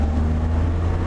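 A utility vehicle engine, a mule used like a tractor, pulling at full throttle with a loud, steady low drone and strong rumble held close throughout, with no speech.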